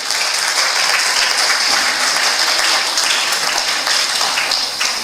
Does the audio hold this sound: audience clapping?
yes